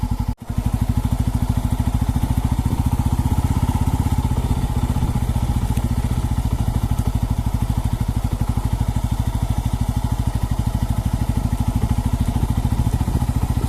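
A motorcycle engine chugs steadily at close range, a constant rapid throbbing with a brief dip near the start.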